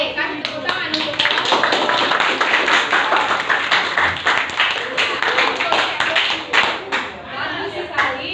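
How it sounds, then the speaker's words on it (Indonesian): A classroom group claps and applauds after a poem recital, scattered uneven hand claps mixed with voices talking over them, fairly close and loud. "kasih tepuk tangan untuk"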